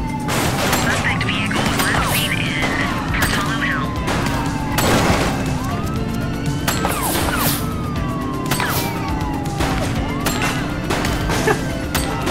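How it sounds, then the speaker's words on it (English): Rapid bursts of gunfire crack through a chaotic police shootout in The Precinct, with a siren wailing and crashing impacts, all loud and dense across the whole stretch. "Get your gun out! Shots fired!"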